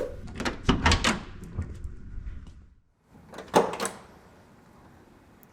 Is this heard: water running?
no